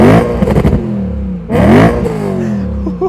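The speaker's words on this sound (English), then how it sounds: "this is the exhaust. It is not the standard," A BMW M3 E92 coupe with an aftermarket Akrapovic exhaust revs hard twice, each blip rising sharply to a loud roar and falling away, the second rev longer and sustained before dropping to idle.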